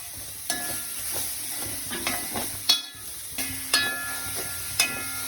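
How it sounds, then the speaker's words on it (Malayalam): A spoon stirs egg and spinach thoran in a hot pan, giving soft scraping sweeps with several sharper clinks against the metal over a steady low sizzle. "അതുപോലെ ഇളക്കി യോജിപ്പിക്കാം"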